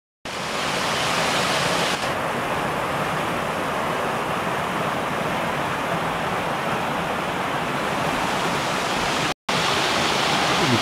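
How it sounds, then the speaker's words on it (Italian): A river near Rezzago in the Triangolo Lariano rushes with a loud, steady roar of flowing water, close and continuous, with a brief dropout near the end. "Il fiume di Recciago."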